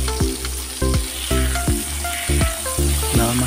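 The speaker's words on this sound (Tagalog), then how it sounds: "luto na tayo ng ating burger patty. Paging prito-prito lang yan." A burger patty fries in hot oil, sizzling loudly and continuously, with some bubbling and popping.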